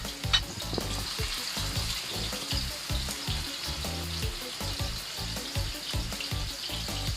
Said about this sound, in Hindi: जब तक ये हमारे कबाब नीचे से सिक रहे हैं हम तब तक वेट करते हैं